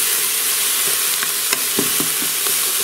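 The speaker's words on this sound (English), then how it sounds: "Gonna stir all that around." Minced garlic, three cloves, sizzles in a pot while a spoon stirs it, a steady close fry hiss broken by a few soft scraping knocks, with no talking.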